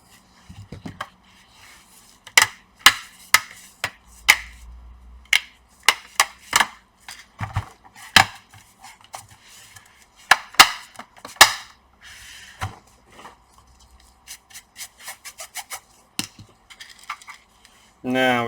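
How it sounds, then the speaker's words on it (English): Plastic back cover being pressed and snapped onto an Acer Nitro 5 AN515-55 laptop, a rapid series of sharp clicks and knocks, close up and fairly loud, with brief handling noise between. "We have to put the back cover."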